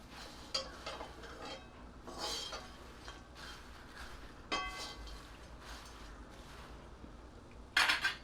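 Jowar puffs chivda stirred in a pan over the gas, giving intermittent scraping and clinking strokes of a spoon against the pan, fairly close and moderately loud, with one sharper metallic clatter near the end and no talk.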